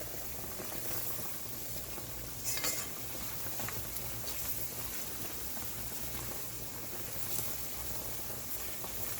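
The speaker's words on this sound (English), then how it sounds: "we're just gonna mix everything together" Butter stirred into cubed steak simmering in a pot on the stove, a steady bubbling sizzle with occasional soft scraping and spoon movements, continuous and close.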